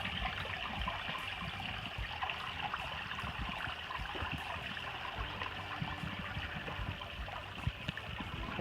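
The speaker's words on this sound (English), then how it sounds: "Nice little creek here." A small creek trickles and burbles faintly and continuously on a fall hike on South Mountain, a soft, steady water sound with no voices over it.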